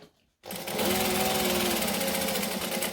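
A sewing machine stitches fabric for a garment, starting abruptly after a brief quiet moment and then running as a loud, steady, close mechanical whir with a fast even rhythm.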